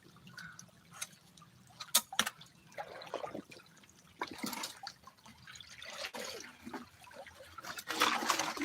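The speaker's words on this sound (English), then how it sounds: "Put a little water in my bucket." Water is poured into a bucket at a gold panning spot, faint splashing and trickling that comes in uneven bursts and builds toward the end, with no talking.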